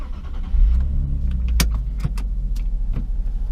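A Nissan 370Z sports car starting up, heard from inside the cabin: a low engine rumble catches and settles into a deep idle, with clicks and rattles around it and a few sharp knocks.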